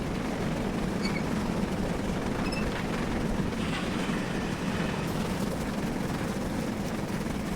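A GWR 7800 Manor steam locomotive in a train simulator game pounds along at speed, its chimney blast merging into a continuous loud, dense roar that stays steady throughout, with no talking over it.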